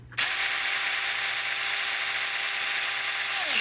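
A mini cordless handheld chainsaw starts up and runs at a steady high-pitched whine, with a smooth continuous motor buzz and the chain spinning evenly close by before it begins to wind down at the end.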